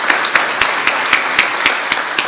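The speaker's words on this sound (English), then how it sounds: "Let's give her a round of applause." Steady, dense applause from a church congregation fills the room, with a few sharper individual claps standing out at a regular pulse, loud and close throughout with no talking.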